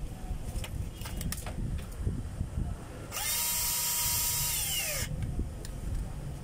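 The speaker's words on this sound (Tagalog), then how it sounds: "Screw po natin to mga kabay para hindi na siya matanggal." A power drill drives a screw in one steady whir lasting about two seconds, close and fairly loud, with quiet handling knocks and faint birds around it.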